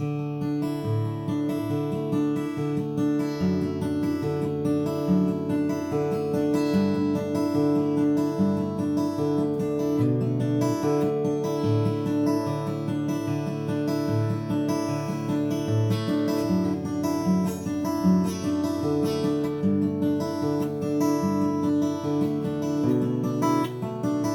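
Guitar chords ring out steadily while the bass notes alternate back and forth beneath them in an even, repeating pattern, played without any voice.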